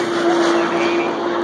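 A Pontiac race car roars steadily along a racetrack at the Haltech World Cup 2018, loud and close, with a sustained high engine note.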